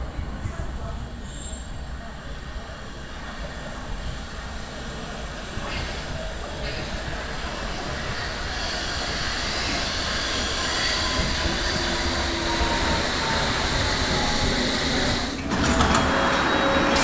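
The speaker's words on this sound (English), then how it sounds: "I am literally just going to get the first train that comes in on here at King's Cross and Pancras" A London Underground train pulling into King's Cross St Pancras on the Hammersmith and City or Metropolitan line, a broad rumbling roar that grows steadily louder over many seconds, with metallic squeals and a sharp burst near the end.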